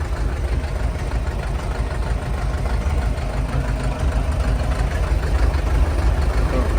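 A Scout TY-404 tractor runs with a Welger straw baler during straw harvesting, its engine droning loud and steady close by with no break.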